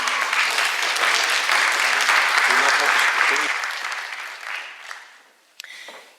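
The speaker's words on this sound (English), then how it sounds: "Give her applause." An audience at an entrepreneurship and clean tech event applauds a keynote speaker. Dense, sustained clapping holds steady, then tapers off and fades, and a brief sound follows right at the end.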